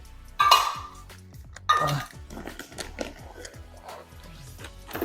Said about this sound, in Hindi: इनके लिए खाना डाल के रखूँ ताकि ये आपस में लड़े नहीं।